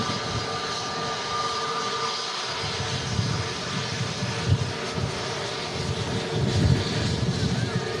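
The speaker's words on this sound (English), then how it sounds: "Freebird Airlines lining up to depart to Antalya. Just on the roll now." A Freebird Airlines jet on its takeoff roll at Manchester Airport in strong crosswinds gives a steady, distant engine roar that swells slightly toward the end, mixed with rushing wind noise on the microphone.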